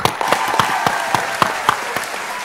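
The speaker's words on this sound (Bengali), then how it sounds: "ওর জন্য একটা জোরে হাততালি" Steady audience applause at an award show, dense clapping with sharp individual claps standing out rhythmically, fairly loud and continuous on its own.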